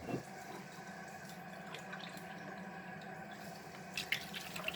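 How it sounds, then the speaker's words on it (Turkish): Water is poured into a runny bread dough as a soft, steady trickle that runs the whole time, faint and close, with a few small splashes near the end. "tekrar su ilavesi yapacağım"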